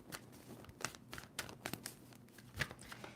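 Tarot cards being shuffled by hand, a series of quick, crisp papery riffles and snaps in irregular bursts, close and fairly quiet.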